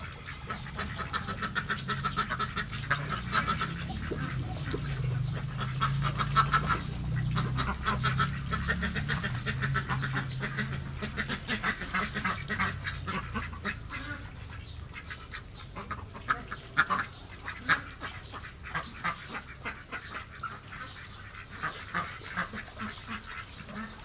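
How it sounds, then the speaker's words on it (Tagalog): Female Pekin breeder ducks quack loudly and repeatedly around their swimming water, a busy overlapping chorus of nasal calls that carries on without pause, with no talking over it. "Sabi nga nila talagang maingay daw ang mga babae na pekin."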